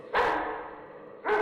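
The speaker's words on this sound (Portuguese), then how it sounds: "pensamos ter ouvido um fraco ladrar longínquo de algum gigantesco" A giant hound barks twice as an audiobook sound effect, each bark a drawn-out, echoing, somewhat muffled call with a pause between, fairly faint and distant in tone.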